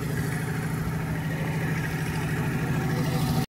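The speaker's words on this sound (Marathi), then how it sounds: "जनरेटर चालू आहे इथं." A generator running at a village dam construction site, a loud steady low engine drone with a constant hum, close and unbroken until it cuts off at the end.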